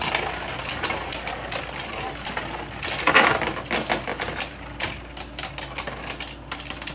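Turbo Beyblade tops spin and collide in a four-way stadium battle, making loud, rapid, irregular clicks and clacks that run nonstop, with a denser burst of clashing partway through.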